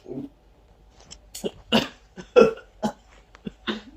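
A series of short, separate coughs and throaty hacking bursts, close and irregular, with quiet gaps between them.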